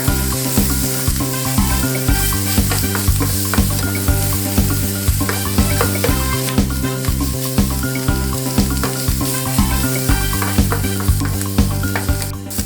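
Sausages sizzling in a pan while being turned for beans and sausages, with a loud steady frying crackle over a regular stirring and scraping rhythm, close and continuous with no talk.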